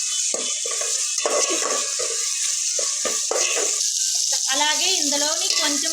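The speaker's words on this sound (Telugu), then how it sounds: "పచ్చివాసన పోయేంత వరకు ఆయిల్లో అయితే టమాటీలు బాగా ఫ్రై అవ్వాలి." Tomatoes frying in oil in a pan give a steady, close sizzle throughout, with bursts of stirring and some watery clatter near the end.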